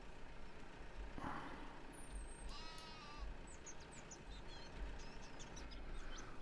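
Sheep in Farming Simulator 17 bleat a few times at a distance, faint over steady low rumbling from a farm vehicle, with brief chirping and a hissing burst partway through.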